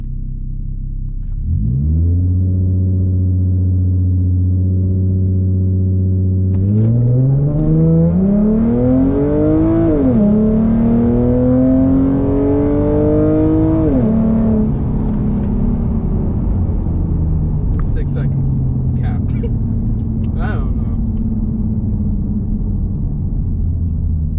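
A blacked-out Ford Mustang, run without boost, idles and then accelerates hard from a standstill. The engine note climbs steeply through several gear changes before settling into a steady, loud cruising drone with road rumble.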